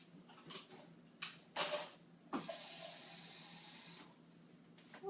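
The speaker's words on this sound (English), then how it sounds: "I'm going to pour some water on this and see if we can get it a little bit cleaner" Water poured onto a dirty cooking pan to clean it, a loud steady rush lasting under two seconds after a few clanks and handling knocks nearby.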